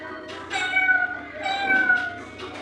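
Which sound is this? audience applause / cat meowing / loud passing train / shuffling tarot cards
cat meowing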